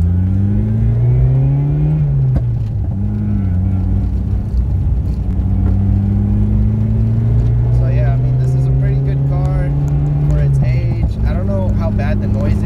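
A 1981 Toyota Corolla SR5 liftback engine rises and falls in pitch through repeated downshift revs, loud and continuous from inside the car with road noise beneath.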